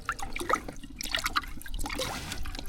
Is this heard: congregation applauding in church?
no